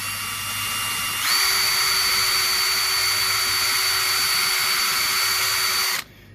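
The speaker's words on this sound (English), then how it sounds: "we're going to start slow with the drill" A power drill boring into a round wooden dowel whirs steadily at close range, its whine stepping up from slow to faster speed before it cuts off abruptly.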